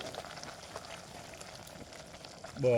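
Steady bubbling and gurgling of water at a rolling boil with Maggi noodles in it, close by, with a brief voice rising over it near the end.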